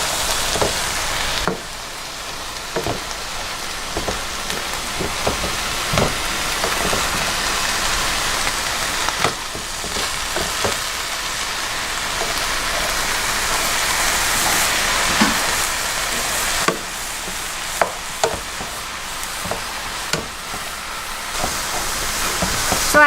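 Browned beef, onions and vegetables for a spaghetti sauce cooking in a pot while being stirred: a continuous sizzling hiss broken by scattered spoon knocks and scrapes, with no speech.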